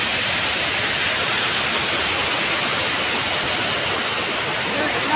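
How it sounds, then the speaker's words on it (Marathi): Saat Ranjan waterfall at the foot of the Sahyadri hills near Hardkhale village, a loud, steady, close roar of rushing water that fills the whole stretch without a break. "सह्याद्रीच्या पायथ्याशी असलेला हा 7 रांजण धबधबा"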